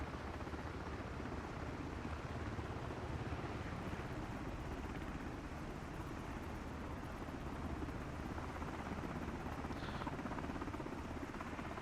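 An MH-60 helicopter flies in Microsoft Flight Simulator 2024, giving a steady, even rotor and engine drone that stays constant throughout, heard alone with no voices.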